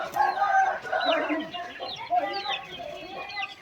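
Market-ready quails, about 25 days old, on a quail farm give a dense, overlapping chatter of short chirps and clucks close by, continuous with no pauses.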